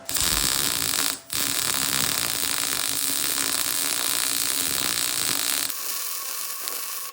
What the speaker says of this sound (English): Welder sounds a lot different too.